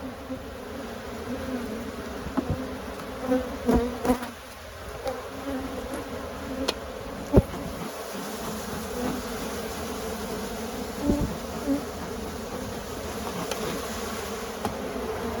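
Honeybees drone steadily around open beehives during a hive inspection, a dense close buzzing that runs throughout with occasional louder passes near the ear and faint handling knocks.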